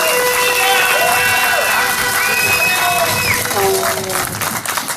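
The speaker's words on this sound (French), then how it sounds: "Donc, une bonne main d'applaudissements pour ces gens-là aussi." Crowd at a Trois-Rivières march of locked-out ABI workers, loud and sustained, with cheering, shouts and whistles over steady clapping, close and continuous throughout.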